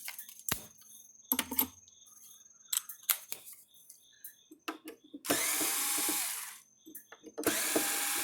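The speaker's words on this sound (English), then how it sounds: "So I got to find the right bit to take this thing apart. I think that's the right one. I just need a drill." A power drill, used to take apart a Gallagher W210 cattle scale, runs in two loud whirring bursts of about one and a half seconds each, after scattered clicks and handling knocks of bits and tools.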